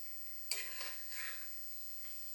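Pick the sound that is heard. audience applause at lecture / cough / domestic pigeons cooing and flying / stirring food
stirring food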